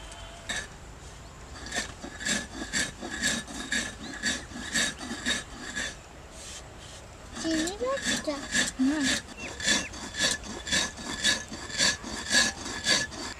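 Sugar crushed on a stone grinding slab (shil) for a toast-biscuit sponge cake, with a steady run of rhythmic scraping, grinding strokes close by, repeated evenly through the whole stretch with a few knocks of pot or dish.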